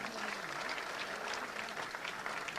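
Steady applause fills an auditorium hall at a political gathering in Uttar Pradesh, a dense, continuous wash of many hands clapping, fairly even in volume with a faint voice in the background.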